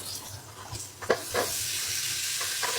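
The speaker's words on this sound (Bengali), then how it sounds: "আলুটাকে সুন্দর করে ভাজা ভাজা করব" Potatoes fry with shrimp and turmeric powder in a pan, a continuous hiss of sizzling oil with several scraping stirs and one sharper knock, close and without talk.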